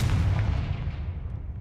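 The Confringo blasting spell detonates in Hogwarts Legacy, a single loud, booming explosion at close range that rumbles heavily and fades over about a second and a half.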